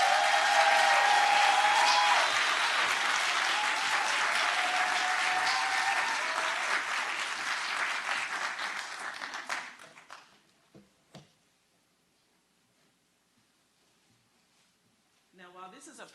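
A conference audience bursts into loud applause to welcome a speaker on stage. The clapping tapers off after about ten seconds, and a voice follows briefly.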